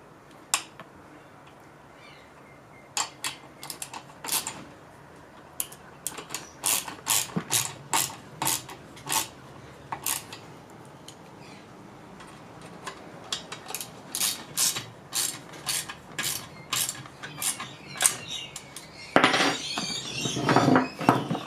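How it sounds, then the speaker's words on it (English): Sid Chrome 1/4 inch drive ratchet with a 10mm socket turning, close up: a long series of crisp, rapid ratchet clicks in irregular runs, getting busier and louder toward the end, with faint handling noise. "Using our Sid Chrome 10mm socket, 1/4 inch drive ratchet, and a right angle screwdriver just to hold it"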